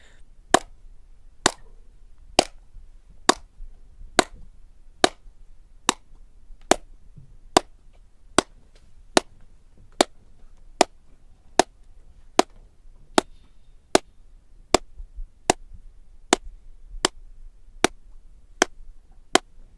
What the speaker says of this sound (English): You can hear how the room deadens echoes by clapping constantly while closing the doors.